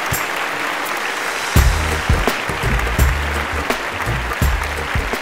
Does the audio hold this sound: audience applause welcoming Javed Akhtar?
yes